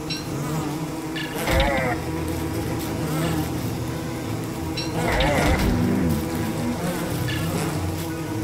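Bees from a destroyed hive buzzing in the survival game Don't Starve Together, a continuous droning insect hum that swells and fades under occasional talk from players.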